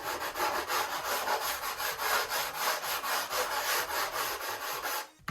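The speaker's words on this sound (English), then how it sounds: "You just sand that seam there." Balsa wood sheeting on a model P-40E Warhawk plane is sanded along a seam by hand, a close, rhythmic scratchy rasp of quick back-and-forth strokes that stops abruptly at the end.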